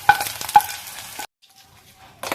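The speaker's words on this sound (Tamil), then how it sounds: "இப்போ நம்ம தாளிப்பை தயிர் பச்சடி கூட சேர்த்துடலாம்" Onion tempering added to cabbage yogurt pachadi and mixed, a few close clattering stirs and scrapes over a soft sizzle, then a sudden pause before stirring resumes.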